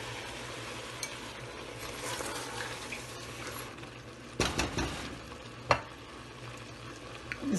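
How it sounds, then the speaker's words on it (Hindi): Lentils tipped into a pan of frying spices for chana dal with bottle gourd, stirred with a steady sizzle and a few sharp scraping clatters, close and moderately loud with no talk. "अब इसमें दाल डाल देंगे।"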